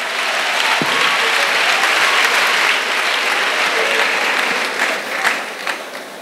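Audience applause and cheering at a church retreat for singles, steady loud clapping from a crowd with a few shouts mixed in, thinning toward the end.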